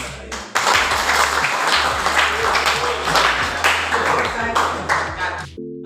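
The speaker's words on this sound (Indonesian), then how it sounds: "Tepuk tangan kali ini." A classroom of pupils claps together in a lively burst of fairly close, uneven clapping that stops abruptly at the end, with a low hum running underneath.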